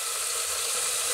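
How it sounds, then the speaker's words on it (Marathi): Finely chopped tomatoes frying in hot oil over high flame for a masur dal tadka, a steady, even sizzle that holds unbroken throughout, close and continuous with no voices. "टोमॅटो देखील आपल्याला मोठ्या गॅसवर छान शिजवून म्हणजे भाजून घ्यायचे आहेत"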